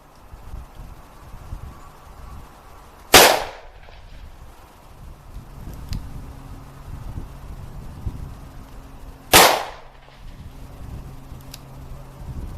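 Taurus snubby revolver firing .357 Magnum rounds outdoors, two loud sharp shots several seconds apart, each with a short decaying echo over faint background noise.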